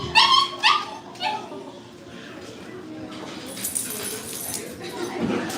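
A dog gives a few high, sharp yips and whimpers close by, then quieter whines follow under soft background noise.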